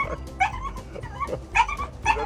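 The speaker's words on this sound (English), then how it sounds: "Is that the dachshund?" A rescued dachshund puppy gives several short, high yips and whimpering barks close by, in uneven bursts with brief pauses.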